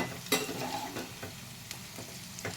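Okra fritters deep frying in hot oil give a soft, crackling sizzle, with a few sharp clicks and scrapes of stirring scattered through, fairly quiet and close.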